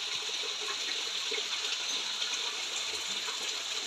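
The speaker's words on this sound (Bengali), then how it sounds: "একটু জল দিয়ে দিলাম।" Water poured into a pan of curry with fried mourola fish, a soft steady splashing and gurgling stream, fairly quiet and continuous with no voices.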